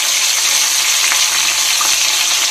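A little water added to a frying tomato and ground spice mixture for a cabbage dish, a loud, close, continuous sizzle and hiss with no break.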